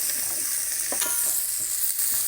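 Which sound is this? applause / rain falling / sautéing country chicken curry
sautéing country chicken curry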